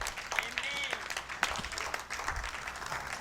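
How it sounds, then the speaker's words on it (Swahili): A church congregation applauding after a sermon, scattered moderate clapping from a crowd heard somewhat distant, with voices mixed in underneath. "Hao ni makofi yapi?"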